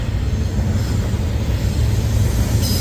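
A steady low rumble of a Norfolk Southern freight train rolling by at a distance in Lindale, Georgia, continuous and unbroken throughout.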